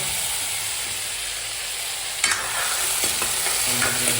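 Tomatoes added to a hot pan after cumin in Nepali home cooking, a steady loud sizzling hiss with a sudden burst as they hit the oil, followed by a few stirring scrapes.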